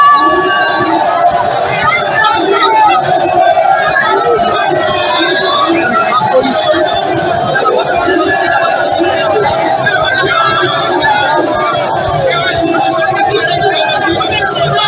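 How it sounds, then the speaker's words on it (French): A dense, lively crowd packs the street to welcome a politician on his arrival in Lisala, with steady babble, chatter and shouts forming a loud, continuous hubbub throughout. "Dans le bain de foule caractérisé par une ambiance bon enfant"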